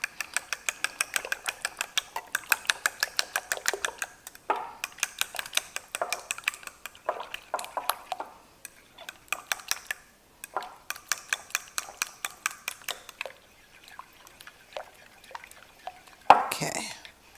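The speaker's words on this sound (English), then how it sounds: "I'm going to mix that up. Let me mix it right now." Lemon juice is stirred into a flour batter by hand for a lemon berry buttermilk loaf cake, with quick rhythmic scraping and clicking of the utensil against the bowl in bursts separated by short pauses.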